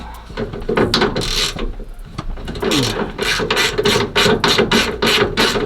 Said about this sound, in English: all we finna do now is just ratchet these bolts off